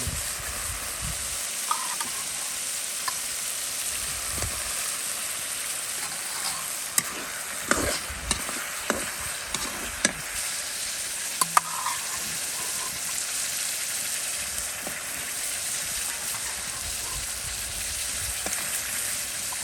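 Meat stir-fries in oil for a Pakistani dish once the spice paste is cooked down, a steady low sizzle lasting throughout with scattered light clicks and scrapes from stirring; nobody speaks.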